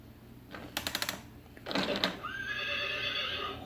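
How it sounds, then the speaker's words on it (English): A horse neighs loudly in a long whinnying call after a few sharp clip-clop bursts, with a steady high tone running underneath. "Horse."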